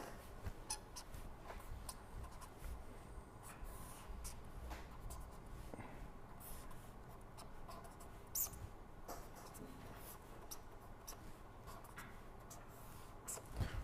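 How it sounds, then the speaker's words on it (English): An equation written by hand during a lecture on motor and transformer fault detection: a continuous soft scratching of pen strokes for about fourteen seconds, with small ticks and taps. No one talks. "I will just write this down here."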